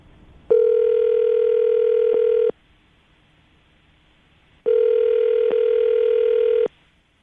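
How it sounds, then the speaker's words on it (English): A landline telephone plays a steady dial tone in two loud bursts of about two seconds each, separated by a quiet gap, with a brief click inside each burst, just before a radio call to a listener. "I'm going to dial the phone number right now"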